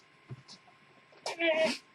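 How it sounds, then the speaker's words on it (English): A house cat meows near the end, a short, fairly loud cry at close range, after a quieter stretch of room sound. "My cat's trying to sit on my We Love Fine bag."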